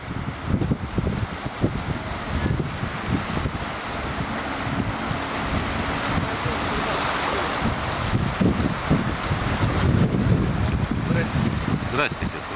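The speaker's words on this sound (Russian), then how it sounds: "машины ездят, волны херачат об тех, которые стоят" Flood water in a street sends waves splashing against parked cars while other cars drive through, a continuous rushing, sloshing wash with gusty wind noise, fairly close and steady.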